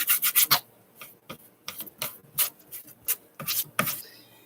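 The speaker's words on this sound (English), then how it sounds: "and I'll sand." Rhythmic, raspy scraping strokes of a sanding block rubbing over a wooden cheese board, close up, in quick bursts with short pauses between them.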